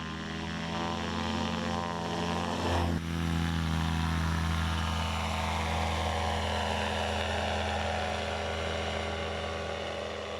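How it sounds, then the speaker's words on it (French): A 50-horsepower paramotor engine at takeoff, a loud, close propeller buzz that holds steady with a brief jolt early on before droning on evenly. "Le moteur fait 50 chevaux, il permet de décoller et de gagner de l'altitude."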